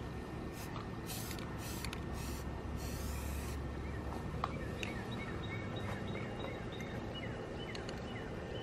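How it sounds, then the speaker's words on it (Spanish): A spray paint can sprays while a mirror is being painted, giving several short hissing bursts followed by one longer spray. Faint bird calls sound in the background, and no one speaks. "porque te vas a gastar todo el spray y nada"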